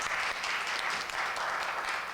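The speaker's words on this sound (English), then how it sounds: "big round of applause" A studio audience on a TV talk show gives a steady burst of applause, a thick, even wash of many clapping hands heard from a slight distance, with no speech over it.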